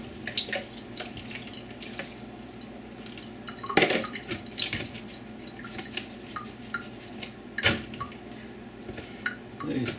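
Water draining from a jar of freshly grown sprouts trickles and drips into a sink, a steady wet patter with a few louder splashy bursts, close by and with no talking.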